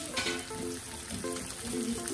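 Green chillies and garlic sautéing in a pan for a homemade prawn pickle, a soft steady sizzle with a few light stirring scrapes, fairly quiet.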